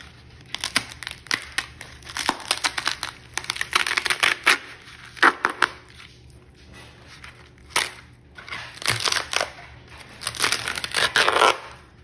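A dried loofah's brittle skin is peeled and crushed by hand over a towel, close crackling crunches and crinkling tears in irregular bursts with short pauses, no talking.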